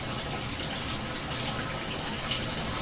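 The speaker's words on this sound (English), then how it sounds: "Now they're as full as they're going to get, so they're overflowing." Water overflows the cups of a DIY ebb and flow hydroponic system, a steady close gush and trickle of running water without pause.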